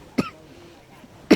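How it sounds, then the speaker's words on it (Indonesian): Two sharp coughs from a speaker who has had a week-long cough, one at the start and one at the end, close and fairly loud with a quiet room between them during a live online education presentation. "Maaf saya batuk ya Bapak Ibu"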